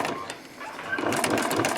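Sewing machine stitching binding tape around the corner of a skydiving BOC pocket, a close mechanical whir with rapid needle ticks that grows busier partway through.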